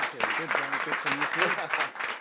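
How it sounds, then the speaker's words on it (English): Studio audience applause at the close of a talk show episode, steady clapping throughout, with voices speaking and cheering over it. "Huge round of applause"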